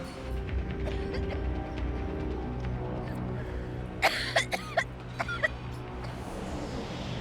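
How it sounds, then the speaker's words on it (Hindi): A short burst of harsh coughs comes in the middle, several quick hacks in a row over a steady low background hum. "हमें लगता है ये खांसी हमारी जान लेकर ही दम लेगी।"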